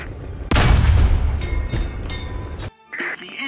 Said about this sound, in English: Now, switch to gunner view and fire at the tank engine.